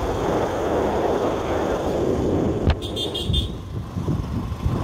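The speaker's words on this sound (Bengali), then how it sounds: "এই তো বাইক চলছে" A motorcycle rides along a rural village dirt road, its steady engine and wind rumble heard from the pillion seat, with a short toot partway through.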